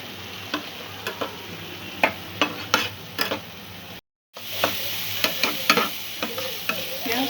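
Hilsa fish fries in a pan with a continuous close sizzle, punctuated by sharp clicks and scrapes of a spatula stirring, broken by a brief silent gap midway.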